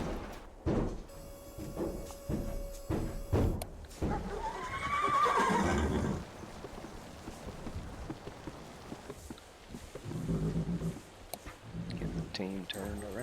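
A horse team in the 1935 ranch video game Resurrection Ranch whinnies loudly once, with hoof clip-clops and rain-like patter around it, while a person talks over much of the scene.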